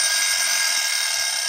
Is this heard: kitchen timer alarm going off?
yes